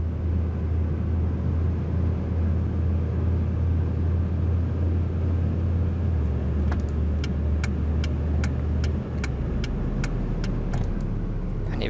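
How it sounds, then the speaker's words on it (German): Cadillac Escalade in the City Car Driving game rolling at 70 over road bumps: a steady low engine and road rumble, loud and close, with a series of regular ticking thumps as the bumps pass. "Hier sind wieder die lustigen Bodenwellen. Das macht dem natürlich gar nichts aus, dass wir da mit 70 drüber fahren."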